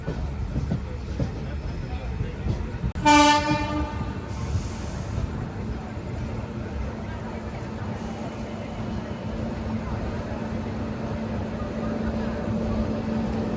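The Machilipatnam–Bidar Express runs on the adjacent line behind a general coach and sounds one short, loud horn blast over the steady rumble of the moving train, with voices talking throughout.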